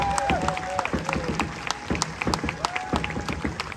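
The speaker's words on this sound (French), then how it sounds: "Voilà, on les applaudit parce qu'ils ont beaucoup travaillé." An audience claps for young musicians at a cultural festival. The applause is a dense, steady patter that runs throughout, with voices mixed in.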